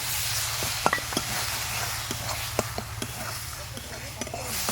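A filling of flattened rice and green peas with turmeric, salt, cumin and coriander powder cooks in a pan. It gives a soft, steady hiss with a low hum and scattered spatula taps.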